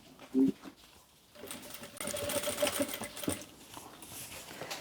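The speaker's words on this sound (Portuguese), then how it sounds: "Então, você costura um pedacinho." A short seam is stitched by sewing machine on synthetic fabric for a small pouch: a soft knock, a pause, then a steady buzzing run of rapid needle clatter lasting a few seconds before easing off.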